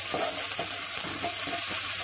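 Tomatoes tipped into onions frying in a pan for fish soup, giving a steady broadband sizzle with faint stirring scrapes throughout, close and continuous, with no talking.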